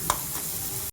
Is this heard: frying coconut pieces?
yes